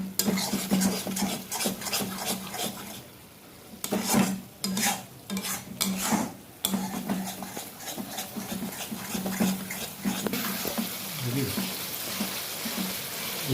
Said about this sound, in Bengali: পরিমাণ মতন হলুদ দিতে হবে ভালো করে কষাতে হবে